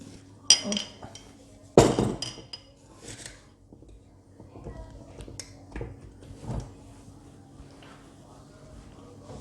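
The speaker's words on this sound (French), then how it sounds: "j'ai mis le thé dans la petite théière" Spoonfuls of Turkish tea dropped into a small teapot: sharp metallic clinks and taps, two loud ones early, then softer scrapes and knocks, with a faint voice in the background.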